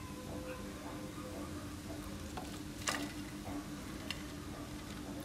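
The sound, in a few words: spinach and onion bhaji frying in oil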